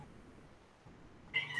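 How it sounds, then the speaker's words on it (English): A domestic cat lets out one short meow at the very end, close by, after a stretch of quiet room tone with no voices. "If you hear that's my cat Aoife"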